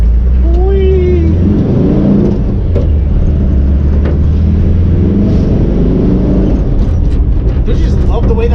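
A rebuilt, high-mileage 1961 Volkswagen bus engine drones and rumbles steadily from inside the moving vehicle, with people talking over the engine noise.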